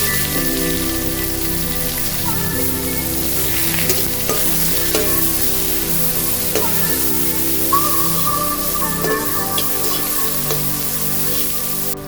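Onions frying to golden brown with chilli and cumin for lemon chowmein, a dense continuous sizzle with frequent scraping stirs and clinks, close and loud, no talking.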